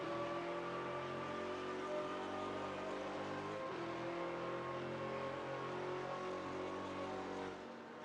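Race cars in a racing video game roar in a steady, continuous engine drone that holds loud and even throughout, with a brief dip midway and a slight fade at the end.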